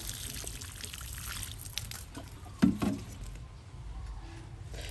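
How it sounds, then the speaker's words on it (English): Water poured from above onto sand around a newly planted dragon fruit cutting, a short splashing burst with a gentler trickle after it, heard over a steady outdoor background hiss. "Watering well."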